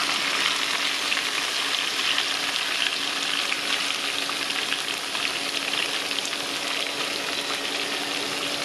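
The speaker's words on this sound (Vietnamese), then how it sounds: "Giờ mình sẽ bỏ dưa vào xào trước." Pickled greens stir-fry in hot oil with fried shallots, giving a steady, close, unbroken sizzle that holds at an even loudness from start to finish, with no voices.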